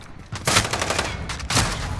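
Bursts of automatic fire from the Striker SMG in Call of Duty: Modern Warfare, two sharp rattling volleys with a short pause between them, loud and close.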